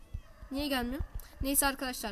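A cat meows repeatedly in the Minecraft video game, several drawn-out and shorter meows heard close and clear while someone speaks Turkish around them.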